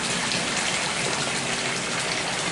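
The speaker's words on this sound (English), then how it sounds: "all I'm going to do now is just open the valve. You'll see the water coming out down there," Hot water gushes steadily from an opened valve on a heating tank, a dense continuous rushing hiss close by with no talk.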